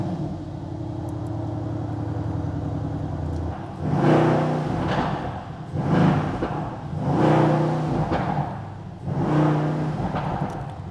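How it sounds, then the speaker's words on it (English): A car engine cranks and comes to life indoors, then runs with a low rumble that swells in a few repeated surges, like light revs, at close range with no talking. "let me actually turn the car on so you guys can hear"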